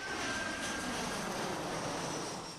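A passenger plane lands at an island airport, its engines giving a steady, loud broadband roar that stays fairly constant throughout.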